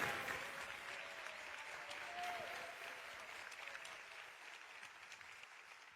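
A church congregation applauds during a sermon, giving a steady, sustained wash of clapping that stays even and moderately distant throughout.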